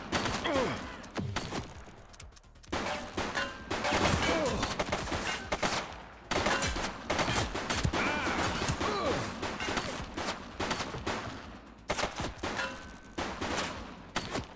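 Gunfire in The Precinct, a police game: bursts of rapid shots crack out repeatedly over several seconds, loud and close, with brief pauses between volleys and chaotic background noise.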